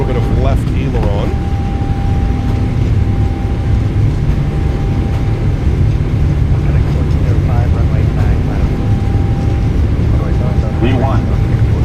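A PMDG 777F freighter rolls down the runway at takeoff power in a flight simulator, its engines a steady, loud, broadband roar with a sustained whine, while a voice talks over it intermittently.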